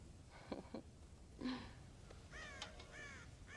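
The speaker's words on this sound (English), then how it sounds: "God damn crows!" Crows cawing in the Red Dead Redemption video game, a few harsh calls spaced out: two short caws early, one around the middle, then a louder burst of overlapping cries near the end.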